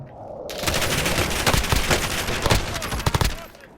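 Dense automatic gunfire from the Warzone video game, with rapid overlapping bursts and loud repeated shots that run continuously for several seconds before trailing off.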